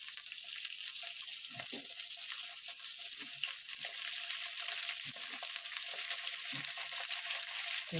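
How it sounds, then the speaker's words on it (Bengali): Mixed vegetables fry in a hot pan for a panchmisali sabji, browning in a steady, dense sizzle with a few soft stirring knocks. No one speaks. "এটাকে আমি একটু লাল লাল করে ভেজে নেব"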